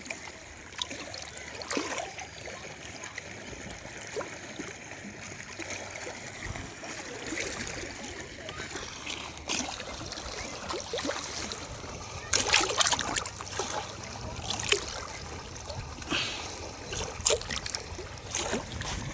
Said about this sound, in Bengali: এই যে কুলো কুলো ঢেউ।